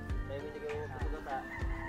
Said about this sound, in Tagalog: Oh, grabe, manok.